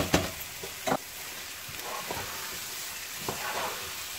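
Boiled mash dal fries with spices in a pan, a soft continuous close sizzle with a few scraping stirs.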